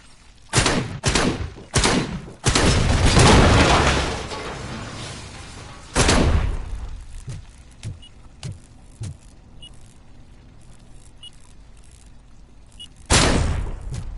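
Repeated heavy blasts from grenades in the video game RoboCop Rogue City, several loud booms with rumbling tails, followed by a run of sharp thuds and a final burst near the end.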